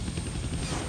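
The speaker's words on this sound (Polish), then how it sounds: "I can't kill that chopper with my guns, but I can scare him." A helicopter in the Deadpool video game gives off a continuous whirring rotor drone, loud and close for a brief moment, with no speech over it.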